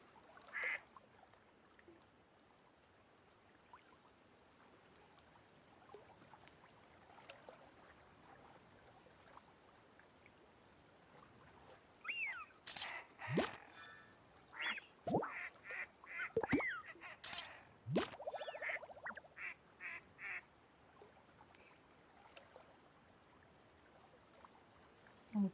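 Agitated duck-like bird in the Heartopia video game, giving a burst of loud, close quacks and honks in irregular clusters over a quiet background, following a stretch of near silence.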